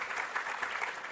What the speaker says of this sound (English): would you like to put your hands together and give them a big clap?